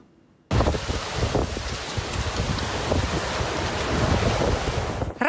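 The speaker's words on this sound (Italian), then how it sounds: "Raffiche di vento fino a 100 km orari" Strong wind gusts up to 100 km/h roar into the microphone after a brief quiet start, a loud continuous rumbling buffet that swells and holds steady.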